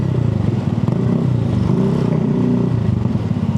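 Honda CB650R motorcycle ridden on a rough, damaged road, its engine droning steadily and fairly loud with a rattling clatter throughout.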